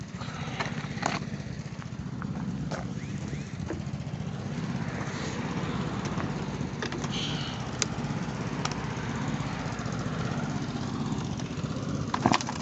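A Stihl FS90 brush cutter, a petrol two-stroke trimmer used for mowing, runs rough and uneven as it struggles to start, a steady low engine drone with occasional sharp clicks and knocks, fairly close and continuous throughout.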